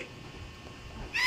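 Cat meowing in the Toca Boca video game: a quiet stretch of faint game ambience, then a short, louder meow bursting in right at the end.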